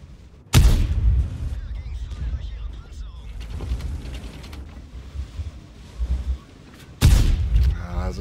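Tank cannon fire in World of Tanks: two sharp, loud booms several seconds apart, each with a rumbling decay, over quieter engine and battle noise.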